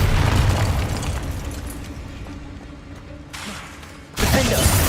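A Bombarda blasting spell detonates in Hogwarts Legacy, a deep booming explosion up front that rumbles and fades, followed by a second loud blast near the end.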